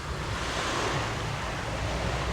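Ocean waves washing onto the beach at Half Moon Cay in the Bahamas, a steady broadband surf wash with some wind rumble, continuous and moderately loud with no talking.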